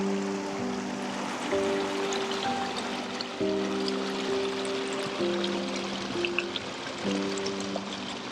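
Water pours and streams steadily nearby as it drains away at a remote campsite in the Sierra, a continuous rushing flow with a faint tonal hum underneath.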